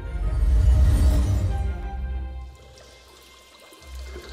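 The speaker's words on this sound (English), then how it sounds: "The sound of trickling water comes from beyond this doorway." Trickling, pouring water from beyond a doorway in the video game Shadowgate, a loud continuous splashing stream that fades to a quieter dribble and then swells slightly again.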